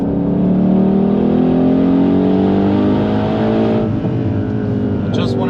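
Mercedes C63 AMG Black Series accelerating hard on the Nürburgring, a loud, close engine note rising steadily through the revs with a brief dip near the end, heard from inside the car.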